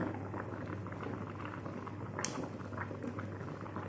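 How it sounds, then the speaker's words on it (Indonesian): A pot of Balinese fish soup with tomato and cucumber bubbles at a steady simmer, with soft continuous popping and gurgling heard close up and no talking. "Tunggu dia sampai mendidih."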